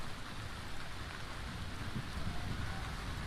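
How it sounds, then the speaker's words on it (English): Steady rain in the survival game Vintage Story, a dense, even wash of falling drops that stays loud and constant with no voices over it. "is the rain too loud for you guys?"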